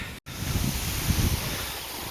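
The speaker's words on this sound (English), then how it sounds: "getting dark, very windy" Wind roars steadily across the microphone in a broad rushing noise, with low buffeting gusts and one brief dropout near the start.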